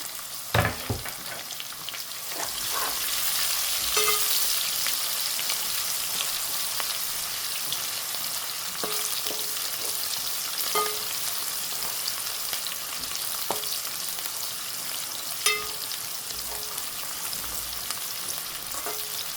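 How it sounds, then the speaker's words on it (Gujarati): Onions and cumin seeds fry in a pan for a Gujarati makul dish, a steady close sizzle with occasional clinks and stirring scrapes throughout. "જીરું નાખીને તો બહુ મસ્ત સુગંધ આવે. એના પાસે ડુંગળી સુકેલી એક કરી દીધી છે મેં."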